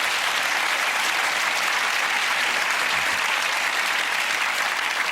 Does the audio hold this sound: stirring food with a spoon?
no